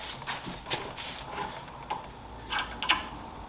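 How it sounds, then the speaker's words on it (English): Rifle stock being bolted back on with a socket and wrench while the barrel sits in a barrel vise, a few sharp metallic clicks and ratcheting taps spaced irregularly, close and moderately loud. "I'll go ahead and put my stock back on"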